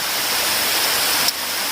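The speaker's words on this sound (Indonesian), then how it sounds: "Nah itu dia air terjun yang pertama." A waterfall roars in a loud, continuous broadband rush, steady and close, with no other sounds standing out.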